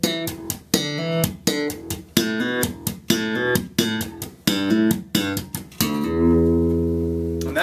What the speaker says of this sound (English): Now I'm going to play it really slowly for you